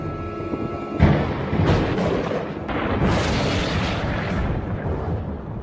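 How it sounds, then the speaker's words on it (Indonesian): A lightning strike and thunder near a house in the film Final Destination: a sudden loud crack followed by a sustained heavy rumble with further bursts, filling the whole clip. "Lalu ada sebuah petir menyambar"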